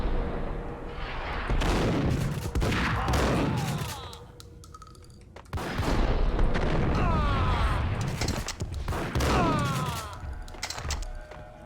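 Loud, continuous bursts of gunfire and booming blasts from the Max Payne video game, with a brief lull in the middle before the shooting picks up again, and shouting voices over the action.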